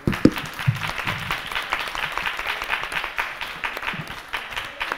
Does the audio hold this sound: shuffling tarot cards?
no